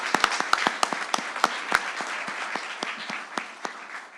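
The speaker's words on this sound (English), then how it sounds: "So we'll start with a round of applause for you." An audience claps at a university ROTC commissioning ceremony, with sharp individual claps standing out near the front over a steady wash of applause that thins slightly toward the end.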